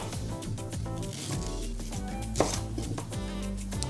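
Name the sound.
cutting ginger and turmeric into small pieces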